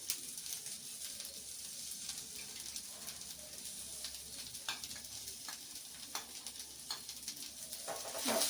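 Stirring and mixing ingredients with turmeric and salt for bende kayi palya (okra stir-fry), a steady soft scraping and sizzling texture with occasional sharper clicks, no voices.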